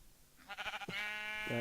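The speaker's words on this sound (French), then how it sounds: "j'ai tué un mouton, et il m'a récolté une laine" A sheep in the Minecraft video game gives a few short, clear digital bleats in quick succession, loud and close, with no speech over them.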